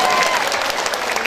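An audience at a village gathering applauds, a steady, dense wash of many hands clapping that stays loud and even throughout.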